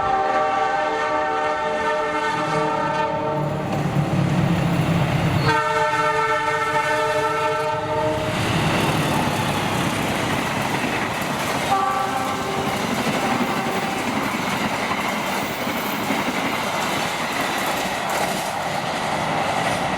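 The Argo Parahyangan passenger train, hauled by a locomotive, sounds its horn in long blasts as it approaches, then rumbles and clatters steadily past at close range in Indonesia.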